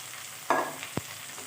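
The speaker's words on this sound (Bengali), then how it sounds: "এখন আলুটা ভেজে নেব আলুটা তিন মিনিটের মতো পেঁয়াজের সাথে ভেজে নেব" Potatoes frying with onions in oil: a brief scrape of stirring and a soft sizzle, followed by a sharp clink, close and quiet.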